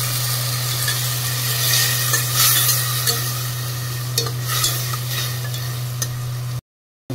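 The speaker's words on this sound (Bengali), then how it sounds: "ধনে গুঁড়ো 2 চামচ দিয়ে দিলাম, আর দেবো একটু হলুদ গুঁড়ো। নাড়তে থাকবো" Coriander and turmeric powder being stirred in a hot pan, a steady close scraping and stirring over a low sizzle with an electrical hum underneath, running without a break until it cuts off near the end.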